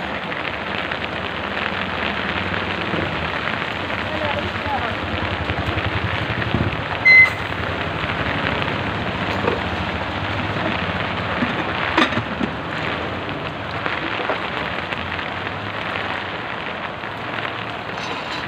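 Heavy rain pours steadily, a dense continuous hiss of drops on surfaces, with a brief louder knock partway through.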